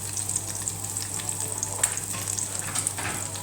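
An egg frying in a pan for a breakfast plate: a soft, continuous crackling sizzle, fairly faint and even throughout, with no one talking.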